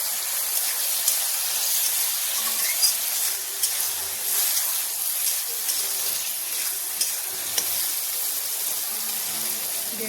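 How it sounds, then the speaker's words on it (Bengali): Frying lentil masala with ground coriander, turmeric, Kashmiri chili powder and a little sugar sizzles and hisses steadily in a pan after water is added, a close, bright crackle with occasional soft pops. "মসুরটা ভাজাতে একটু জল দেব"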